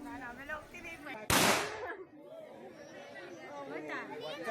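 A single loud gunshot rings out outdoors near a temple, aimed at a coin tied to a tree, and its blast decays over about a second while a crowd chatters and talks all around.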